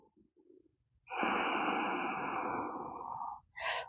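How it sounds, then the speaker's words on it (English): A single long, deep breath, slow and close, with a hoarse, slightly wheezy rush lasting about two seconds, then the start of another breath after a brief pause, in an otherwise quiet room. "Let's breathe myself into it."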